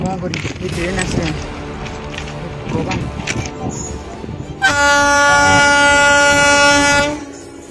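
A train approaches with a loud, sustained horn blast that starts midway and holds for a few seconds, following rumbling rail noise and voices of people talking nearby.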